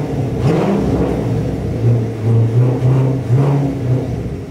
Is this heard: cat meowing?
no